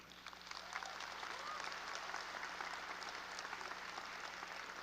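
Graduates at a 2024 high school graduation ceremony applaud their parents, a large crowd's clapping swelling in after a quieter start and holding as a steady, distant-sounding roar across a big hall.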